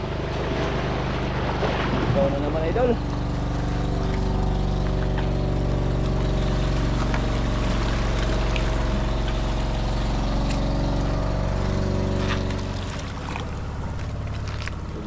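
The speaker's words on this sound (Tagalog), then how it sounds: "Ayun, may bangka na naman idol." A motorboat engine drones steadily with wind buffeting the microphone and water noise, while someone speaks briefly.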